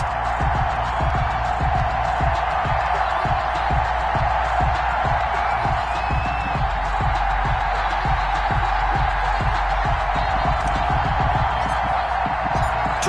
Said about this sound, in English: This crowd is ready as their guys get set to match up between the Tampa Bay Buccaneers and the Dallas Cowboys.